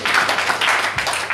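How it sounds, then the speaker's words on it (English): Congregation clapping at a wedding ceremony, a dense, steady patter of many hands close by that fills the whole moment without any speech over it. "Clap for Jesus Christ."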